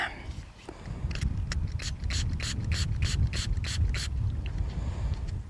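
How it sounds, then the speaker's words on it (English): A steady hissing water spray on a thin coin dug up while metal detecting in a field, with rapid scraping, ratcheting clicks running through it, close up and fairly loud for several seconds. "Let's give it a spray, see what we got"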